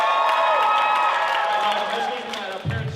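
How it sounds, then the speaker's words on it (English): A high school crowd cheers and whoops loudly for prom at an open mic night, a dense roar of young voices that fades slightly before a brief burst of louder shouting at the end. "How about high schoolers? Let's hear them cheer for prom."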